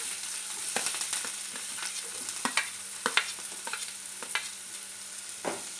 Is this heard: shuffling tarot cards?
no